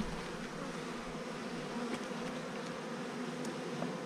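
Many honeybees buzz in a steady, droning hum that fills the air in August swarming season, with a few individual insects passing closer now and then.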